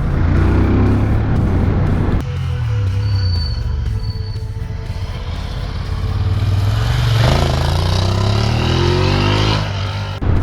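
A Ducati Monster 1200 S motorcycle engine pulls loud and steady while riding on French roads, its low rumbling drone rising and falling in pitch with throttle changes, heavy wind noise over it and no talking.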